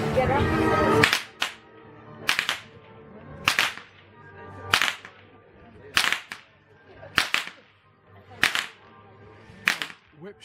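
A whip cracks over a horse's head during a rural procession of riders, eight sharp, loud snaps at a steady rhythm of roughly one per second, with faint background voices between them.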